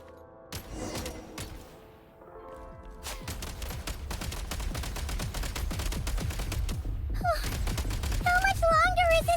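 Rapid shooting while gliding in a fantasy action game, with a steady stream of quick sharp shots building in density and loudness, a sparkling chime-like effect near the end, and a voice speaking at times.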